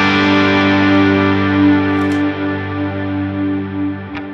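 An electric guitar runs through a Matchless DC30-style amp model with reverb, playing sustained, slightly driven chords that ring out and decay into a lingering reverb tail, with a few brighter pick strikes near the end.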